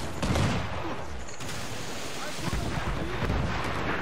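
Enemy ships unleash cannon volleys in Assassin's Creed 4 Black Flag, a sustained roaring fusillade of overlapping booms with louder swells at the start and end, with voices heard over the din.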